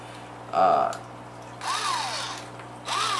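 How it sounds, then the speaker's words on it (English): A Valken VMax paintball hopper motor whirs in short bursts, each with a rising then falling tone: a brief loud spin, then a longer run, then another start near the end. "this hopper, I thought it was going to be horrible on the field because it's actually pretty loud"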